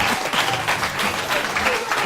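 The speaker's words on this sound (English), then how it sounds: "Let's give them a big round of applause." A live-show audience breaks into steady applause, a close, full clatter of many hands that keeps an even level with slight pulsing throughout.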